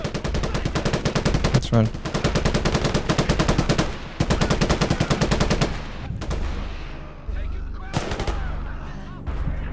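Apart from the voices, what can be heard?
machine gun fire in video game Gates of Hell: Liberation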